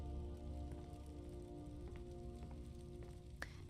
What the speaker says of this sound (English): I think the rain is freaking her out